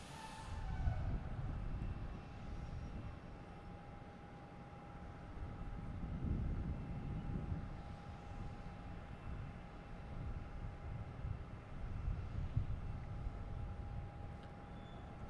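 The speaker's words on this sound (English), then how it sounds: "next coming in, we have a Delta," A Delta Embraer E175 jet arriving from JFK and landing at Boston Logan, heard as a steady, distant broadband roar with a faint whine that swells and fades slightly, continuous and without talk.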